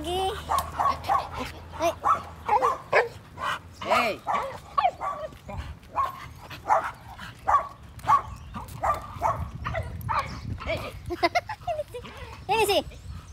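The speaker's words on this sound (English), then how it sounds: "Another dog there, oh. Hi, doggy." A dog barks repeatedly in short yips and whimpers close by, mixed with a person calling out and talking over it.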